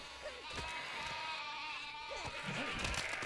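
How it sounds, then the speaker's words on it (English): Sheep in the video game Overlord bleat in short wavering calls, several overlapping at close range over game music and background noise, with a player talking at times. "Kill all the sheep."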